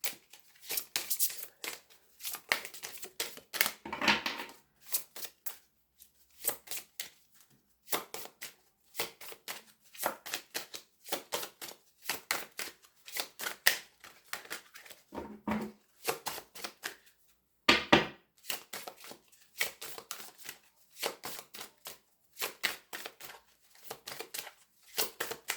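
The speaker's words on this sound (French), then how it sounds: "je suis en train de mélanger des cartes qui sont à moitié à l'envers" A tarot deck, partly turned upside down, shuffled by hand in repeated crisp bursts of riffling and sliding card noise with short pauses between, close and clear with no talking.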